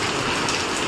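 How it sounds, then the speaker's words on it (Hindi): A steady wash of hissing noise like heavy rain pouring down, dense and constant over a short stretch. "मस्त बारिश हो रही है"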